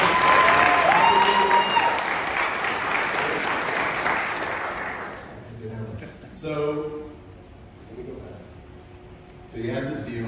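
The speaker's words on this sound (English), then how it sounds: "give her a round of applause." An audience gives a round of applause at a real estate presentation, loud clapping for about five seconds that then fades away, followed by people talking.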